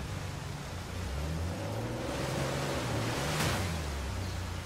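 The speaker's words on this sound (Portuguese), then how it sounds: "Mas finalmente temos um Jeep!" Jeep engine in the video game Uncharted 4, a low droning motor with shifting, rising tones as it drives over rough ground, steady and moderately loud with a brief rushing swell near the end.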